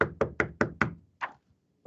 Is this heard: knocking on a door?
yes